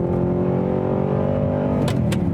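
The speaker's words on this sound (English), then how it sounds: "how lovely this car is to actually get on the road and drive" An Audi R8 V8 supercar on the road, its engine holding a steady, loud note that rises slightly as it pulls, with brief clicks near the end and nobody speaking.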